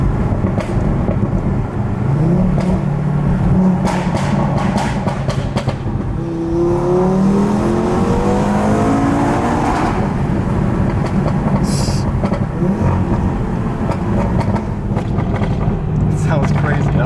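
A hybrid turbo 650bhp Audi RS3 accelerates loudly through a tunnel with windows down, its engine note rising in sweeping pitch runs with sharp exhaust pops and cracks; someone talks over it.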